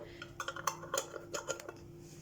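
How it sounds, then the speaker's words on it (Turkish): Quick metallic clinks and scrapes of metal lids being twisted shut on sour cherry jam jars, a cluster of small clattering taps close by, no speech. "kaynattığımız kapaklarımızla reçelimizin ağzını sıkıca kapatıyoruz"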